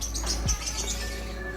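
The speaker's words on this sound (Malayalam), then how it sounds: "Meesha silky chicken." A silkie chicken with a beard calls in a short soft burst of chirps and coos, close and alone over a steady low hum.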